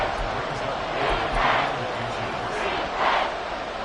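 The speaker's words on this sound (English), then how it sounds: "this crowd trying to force a false start here" A football stadium crowd roaring in rising and falling waves, two distinct surges of noise over a constant din, with a commentator's voice running underneath.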